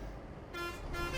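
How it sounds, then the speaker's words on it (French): Truck horn in Euro Truck Simulator, a custom horn sounding in two short tonal blasts over a steady low engine rumble, fairly quiet. "tout ce que j'entends, c'est mes cornes Sandstorm."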